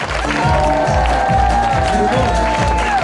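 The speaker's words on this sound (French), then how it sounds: "je vous demande s'il vous plaît une ovation pour mon assistante Célia" An audience applauding and giving an ovation at a magic show, with dense, steady clapping from a large crowd under music that carries a sustained tone and a rhythmic low beat.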